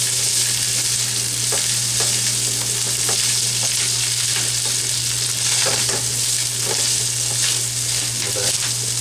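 Pesto gnocchi and beef fry in a skillet with a loud, continuous sizzle and scattered pops, close up and steady throughout.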